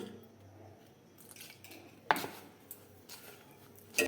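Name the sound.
mixing dough with salt and ghee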